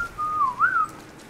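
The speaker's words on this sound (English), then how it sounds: "This was a whistling arrow." A Mongol whistling arrow from the video game Rise of the Tomb Raider gives one short clear whistle that wavers and rises briefly, standing alone against a quiet background.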